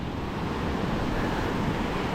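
Ocean surf washes steadily onto a beach during shore fishing, a loud continuous roar of breaking waves and wind with no voices.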